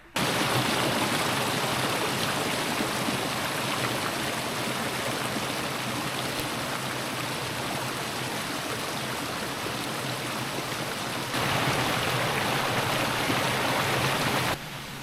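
Fast-flowing stream water after heavy storms gives a loud, steady, broadband rush that continues without a break.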